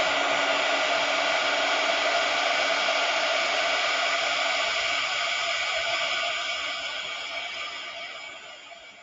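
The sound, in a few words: heat gun blowing hot air on shrink plastic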